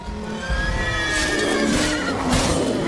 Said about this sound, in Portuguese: O cavalo ficou apreensivo ali.